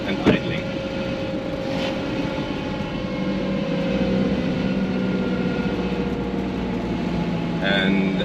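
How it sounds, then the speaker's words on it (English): A Mercedes W115 220D diesel engine idles in a steady, even drone with a constant low hum and a faint tonal whine, recorded up close with a couple of brief knocks and a short voice. "Engine is running smooth and idling."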